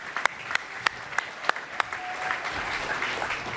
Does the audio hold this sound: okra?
no